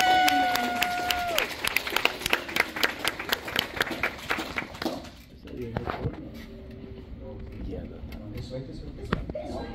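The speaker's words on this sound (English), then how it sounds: "let's give them a round of applause for their promotions today" Applause from an audience at a Taekwondo belt promotion ceremony, steady clapping in the first half that thins out, with speech and background noise through the room.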